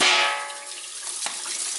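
Cold tap water runs steadily into a kitchen sink while pot roast meat is rinsed under it, a close, constant rushing splash that is loudest at the start and then eases a little, with no talking.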